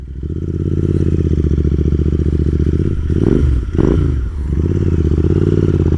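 Royal Enfield Interceptor 650 motorcycle fitted with S&S slip-on exhaust pipes, a loud, steady close-up engine drone with deep rumble, briefly blipped twice with quick rising-and-falling revs before settling back to idle.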